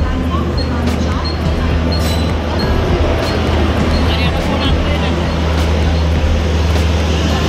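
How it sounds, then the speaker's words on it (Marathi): A Janshatabdi Express train pulls into a station platform, a steady low rumble and hum with clanking wheel noise rolling on throughout, while voices carry on nearby. "ही बघा आमची ट्रेन आली आहे जनशताब्दी एक्सप्रेस"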